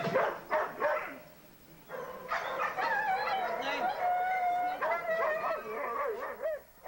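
Dogs held in a New York animal shelter bark, yip and whimper, several overlapping voices close by, with short bursts at first and then a sustained, continuous run of howling barks.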